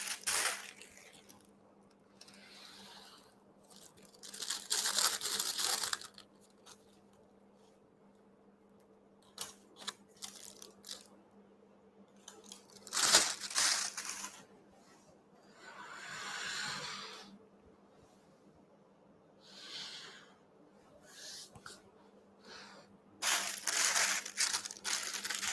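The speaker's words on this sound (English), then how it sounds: "So I'm fitting the piping bag with a round nozzle." A plastic piping bag crinkles as a thin round nozzle, about size 2, is fitted for royal icing. Close crackly bursts come in repeated bunches, separated by quiet pauses over a low steady hum.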